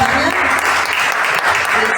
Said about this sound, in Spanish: les voy a pedir un caluroso aplauso para Graciela